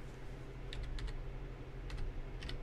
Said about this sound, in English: So make sure you type it in correctly.